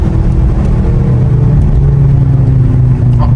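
A Mercedes C63 S E Performance, an all-wheel-drive sedan, being driven on the road, heard from inside the cabin as a loud steady engine and road rumble with a faint whine.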